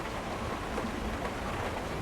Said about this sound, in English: The sounds of wind and rain suddenly becomes chaotic, with the rain seeming as so close as if it is being poured right beside your ears.